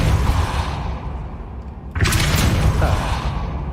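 A Depulso force-push spell fires in the Hogwarts Legacy video game, a sudden whooshing burst that cuts in midway over a steady low rumble of game ambience, no talk.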